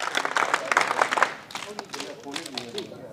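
An audience at a college scout and guide ceremony in Semri claps in welcome, a dense burst of applause that thins out after a second or so while a voice talks over it.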